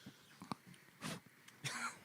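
A couple of short, harsh coughs burst out in a podcast studio against a quiet background, with a few small clicks before them.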